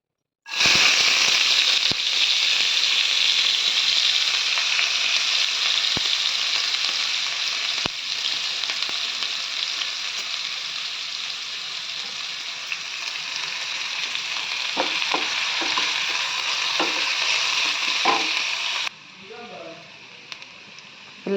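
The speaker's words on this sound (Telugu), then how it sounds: "కాగిన తర్వాత ఉల్లిగడ్డ, పచ్చిమిర్చి వేయాలి." Onion and green chillies dropped into hot oil give a loud, dense, continuous sizzle that gradually settles, with a few stirring clicks, then cuts out to near quiet at the end.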